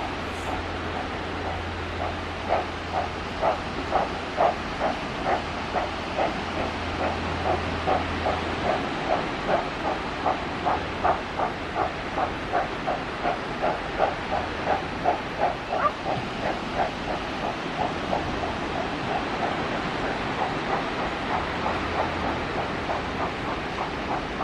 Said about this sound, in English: We heard it, but didn't see any sign of the steam either this time, as it departs Doniford halt on its way to Wilton.